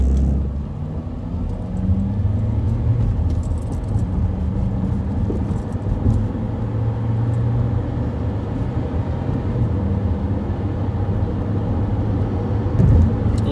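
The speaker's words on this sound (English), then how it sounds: "Listen to that engine purr." A car engine runs at a steady idle, a continuous low rumble that stays even and fairly loud from start to finish, with no talk over it.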